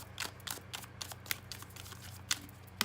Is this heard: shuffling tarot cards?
yes